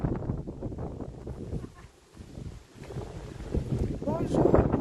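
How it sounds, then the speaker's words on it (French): Strong outdoor wind roars and buffets the microphone in gusts, with a person talking over the rumble before rain sets in. "Il y a énormément de vent."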